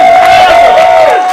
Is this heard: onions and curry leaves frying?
no